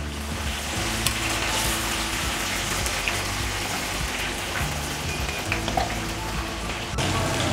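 Spicy mutton boti pieces fry in a pan with a steady, dense sizzling hiss like rain on a surface, punctuated by faint crackles and occasional stirring taps.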